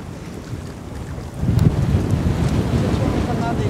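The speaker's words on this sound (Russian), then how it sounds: "Катер идет на обгон справа." A motorboat overtakes on the right during a boat race, its engine rumble growing louder about midway through. Steady wind buffeting and rushing water fill the background, with no one speaking.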